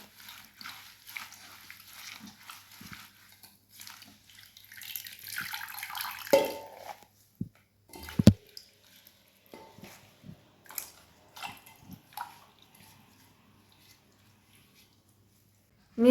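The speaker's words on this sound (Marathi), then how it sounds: "या प्रकारे आपल्याला 2 पाण्याने स्वच्छ धुवून घ्यायचं आहे." Fenugreek leaves being washed by hand in a pot of water, with steady splashing and sloshing for several seconds, then scattered wet handling sounds and a few sharp knocks before the clip goes quiet.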